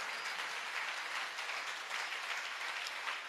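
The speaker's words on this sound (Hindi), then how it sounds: "यहां पर 36 लोगों ने तालियां बजाई हैं" Steady, fairly quiet clapping from a crowd at a Jain monk's religious discourse in Kishangarh, Rajasthan, sustained without pause.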